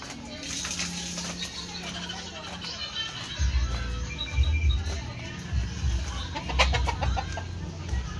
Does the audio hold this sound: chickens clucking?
yes